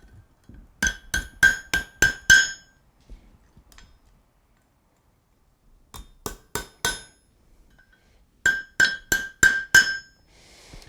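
Quarter-inch steel rings are hammered on an anvil horn in three quick bursts of bright, ringing metallic strikes, about five or six blows each, separated by pauses.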